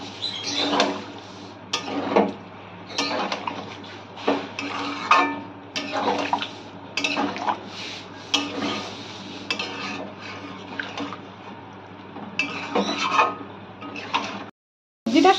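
Vegetables and stock stirred in a pot, repeated wet scraping and clinking strokes of a utensil against the metal in an uneven rhythm. Close and moderately loud, without talking.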